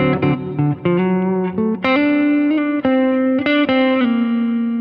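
An electric guitar solo with distortion and effects plays over a backing track, a run of sustained, ringing lead notes with slides and short gaps, loud and close, with no talking.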